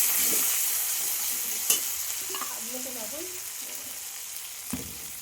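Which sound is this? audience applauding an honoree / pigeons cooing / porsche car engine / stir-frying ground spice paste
stir-frying ground spice paste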